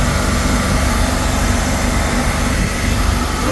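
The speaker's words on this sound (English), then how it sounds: "It's idling super high." A boat engine on a lake idles abnormally high and refuses to settle down, a steady loud broadband drone with a low rumble, unbroken and without talk.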